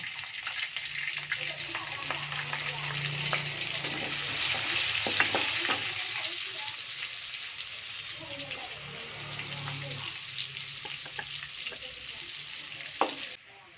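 Shallots fry in a sticky wok with a steady, loud sizzle and frequent stirring scrapes that continue without a break.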